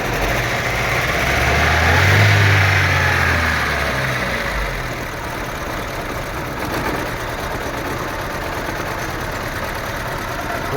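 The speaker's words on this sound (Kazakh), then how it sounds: "Мотордың оталып тұрғанын көрсеңіздер, как будто свеча істемей жатыр." A Daewoo Nexia engine idles roughly with a misfiring cylinder, giving a steady, uneven rumble with a slight swell early on and no talking over it.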